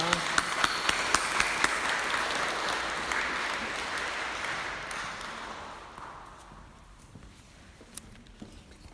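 A church congregation claps in welcome at the close of a Sunday worship service, dense sustained applause that fills the room for about six seconds, then fades to scattered claps and quiet.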